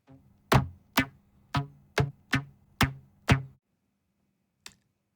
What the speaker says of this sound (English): It is a rubber band.